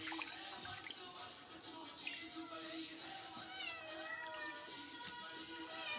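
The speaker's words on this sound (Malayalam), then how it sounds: "പൂച്ച അത് കണ്ടിട്ട് ഓടി വരുന്നുണ്ട് കേട്ടോ, ഒരു കഷ്ണം കിട്ടുമോയെന്നറിയാൻ വേണ്ടിയിട്ട്." A cat meows repeatedly in a kitchen where fish is being washed, several rising, drawn-out cries over running tap water and faint splashing.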